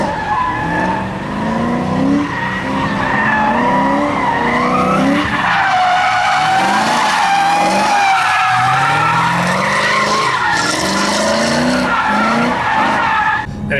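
A New Edge Ford Mustang drifts on a speedway course, tires squealing loudly and continuously over the wavering engine note, close and sustained throughout.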